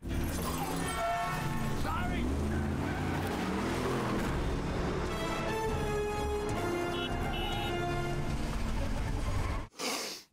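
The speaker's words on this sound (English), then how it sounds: "Oh my god, all those vehicles, all those cars." Dense, loud roar of cars and vehicles in a movie car chase scene, with engines, crashes and shattering mixed under constant talk and a music score, ending abruptly.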